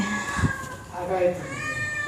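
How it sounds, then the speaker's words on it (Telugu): A cat meows nearby, drawn-out and plaintive, while a person talks at the same time. "ఇప్పుడు అదిగో మా పిల్లి ఇప్పుడే వచ్చింది"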